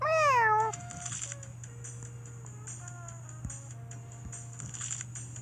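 A cat gives one clear, loud meow up close at the start, followed by quieter clicks and faint rustling against a steady low background hum.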